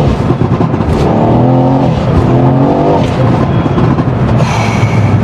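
An 801-horsepower twin-turbo sleeper car accelerating hard, a loud engine roar rising through the revs with a gear change midway, heard from inside and close.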